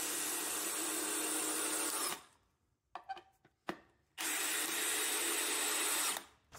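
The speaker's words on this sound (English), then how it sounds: "you can just see the power in that 12 volt drill" A 12 volt cordless drill drives screws into 2x4s, two loud sustained whirring runs separated by a pause filled with a few knocks and handling sounds of wood.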